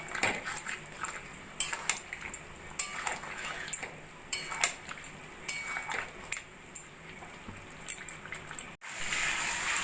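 Chicken curry is stirred and sautéed in a pot, with repeated metal spoon clinks and scrapes against the pot over a soft bubbling, wet background, then a brief cut near the end.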